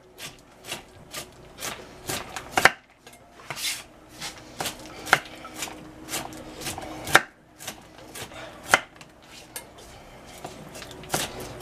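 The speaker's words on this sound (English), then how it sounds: "cut up all these nuts like so." A knife chops walnuts on a board, with repeated crisp knocks at an uneven rhythm of roughly one or two per second, close and clear, without any talk.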